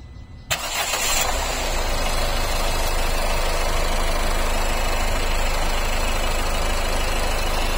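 A Ford EcoSport engine with its alternator belt removed starts with a sudden burst, then settles into a steady, even idle that holds close and constant to the end.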